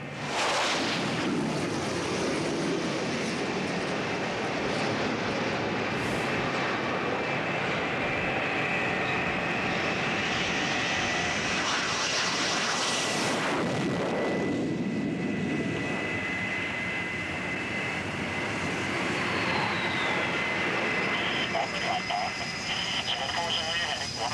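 A jet flying an approach past an aircraft carrier deck at sea, a loud, continuous roar that swells and shifts as it passes, with wind and sea noise and someone talking over it.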